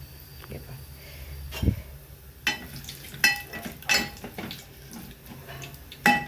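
Garlic frying in oil for a tadka, a soft sizzle under intermittent utensil clinks and stirring knocks, with some quiet background noise.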